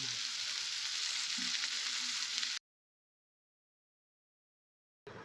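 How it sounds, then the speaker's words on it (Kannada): Fenugreek leaves frying in hot oil, giving a loud, steady sizzle that cuts off abruptly into silence before the hiss returns briefly at the end. "ಈಗ ಮೆಂತ್ಯ ಸೊಪ್ಪನ್ನ ಆಯಿಲ್ನಲ್ಲಿ ಫ್ರೈ ಮಾಡ್ಕೊಳ್ತಾ ಇದ್ದೀನಿ."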